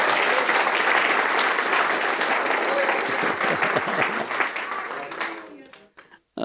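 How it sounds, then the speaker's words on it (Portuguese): Church congregation applauding loudly, a dense sustained wash of clapping with voices mixed in, thinning and fading away toward the end. "dê um aplauso forte para o Senhor Jesus"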